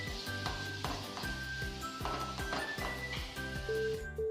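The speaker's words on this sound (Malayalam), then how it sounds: "നന്നായിട്ട് നമുക്കിതൊന്ന് ഫ്രൈ ചെയ്തെടുക്കണം" Prawns frying in a pan on a low flame: a continuous close sizzle with repeated rhythmic scraping and clinking from stirring, steady and fairly loud throughout.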